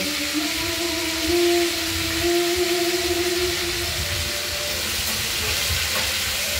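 Salted, turmeric-coated cauliflower pieces frying in oil in a kadai, a steady bright hiss and crackle throughout with a faint hum underneath.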